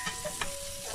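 Chopped onion frying and being stirred in a pan for adobong takway, a soft, steady sizzle with a few light scraping strokes, heard up close and alone for under a second.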